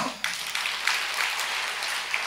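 A congregation claps during a Telugu church sermon: a steady crowd applause, with sharp bursts of clapping standing out against a continuous wash of hands.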